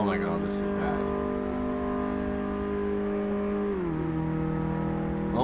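A modified Subaru Brat engine drones loudly and steadily from inside the car under acceleration, its pitch dropping once near the end as it shifts into fourth gear, then holding on.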